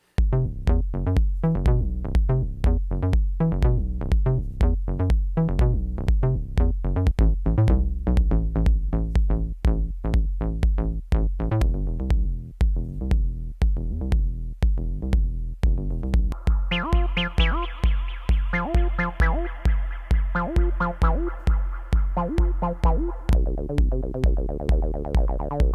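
Acid line patterns played on a Roland TB-303 synth driven over MIDI: a loud, fast, repeating sequence of squelchy, plucky bass notes with a steady pulse, turning brighter and more resonant partway through.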